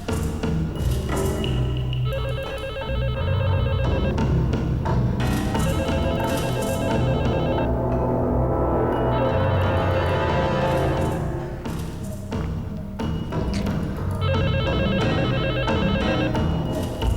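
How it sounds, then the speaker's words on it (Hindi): An old-style telephone bell rings in repeated bursts, loud and insistent, with short pauses between rings over a busy background noise. "आलोक भैया, फोन उठाओ।"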